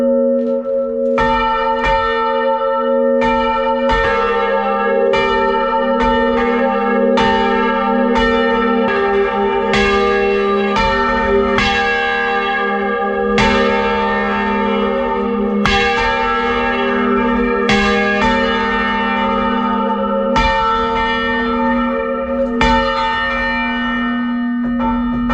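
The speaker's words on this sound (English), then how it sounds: "And so the bells are working 360 degrees." Church bells swing full circle in a tower, pealing in a steady, overlapping sequence of rich, ringing strikes with long sustained hum beneath, loud and continuous throughout with no voices.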